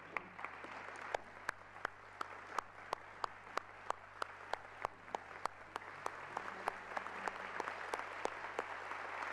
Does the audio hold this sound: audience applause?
yes